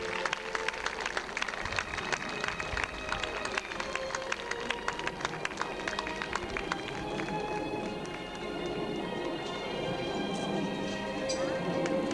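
Audience applause at a 1989 church fete in Barnton, a dense, steady patter of many hands clapping that carries on for the whole stretch with crowd noise mixed in.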